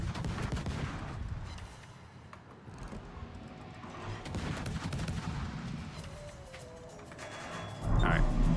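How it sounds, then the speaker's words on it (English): Naval gun salvos from a warship in a naval combat game: rolling, booming volleys rumble continuously at moderate loudness, with a heavier blast near the end and a voice talking over parts. "I got about 3 more salvos in here before I need to secure the guns"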